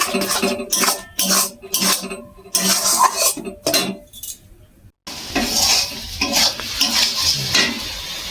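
A spiced mixture with salt and turmeric stirred in a pan, loud close rhythmic scraping and clattering of a spoon in bursts, then a denser sizzling stir after a short pause.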